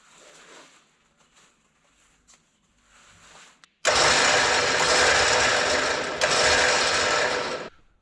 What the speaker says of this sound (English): You want to winch in a little bit?